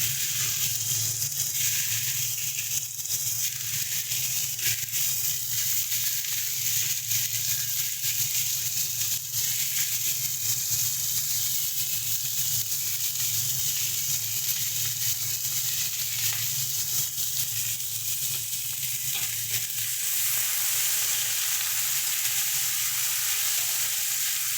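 Kochur lati, taro stolons, fry in hot oil in a pan with a continuous loud sizzle, broken by occasional stirring scrapes, close and steady throughout.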